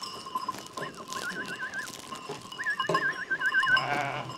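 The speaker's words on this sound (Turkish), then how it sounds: "Soğukta acıkmış koyun." Sheep bleat loudly and repeatedly at close range, hungry in cold weather on a farm, with wavering cries coming in short bursts and livestock noise between them.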